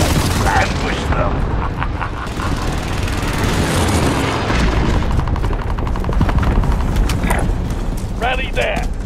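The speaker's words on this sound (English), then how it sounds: "Mercenary called in a supply chopper to offload their cash reserves." Supply helicopter in a military shooter video game, its rotor thrum running steadily and loud beneath dense gunfire and explosions throughout.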